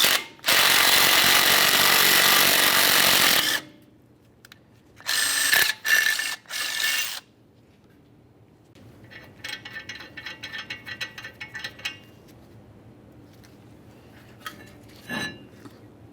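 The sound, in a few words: tightening bolts to pull brake rotor off Ford F-150 hub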